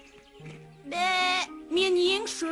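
A lamb bleats twice in long, wavering, nasal cries close to the listener, after a few quieter calls at the start.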